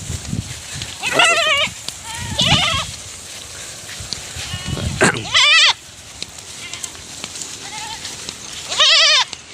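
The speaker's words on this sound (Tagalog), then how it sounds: "Yan ito mga kambing. Ito yung mga kambing naghihintay." Several Anglo-Nubian and Boer goats waiting to be fed on a farm bleat in wavering, repeated calls, some near and some farther off, over a busy outdoor background.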